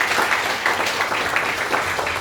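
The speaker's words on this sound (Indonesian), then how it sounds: "Boleh sekali lagi tepuk tangan buat Tuhan kita yang luar biasa." A church congregation applauds, a dense, steady wash of many hands clapping together, loud and continuous throughout with no break.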